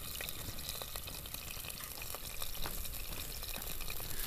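Water and oil sizzle and bubble in a pan over a campfire, a steady close crackling hiss with small pops running throughout, no talking.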